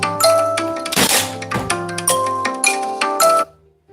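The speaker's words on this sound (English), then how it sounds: "Got a call coming in." A phone rings with an incoming call, a bright repeating ringtone melody of chiming notes in quick bursts, loud and close, stopping abruptly near the end.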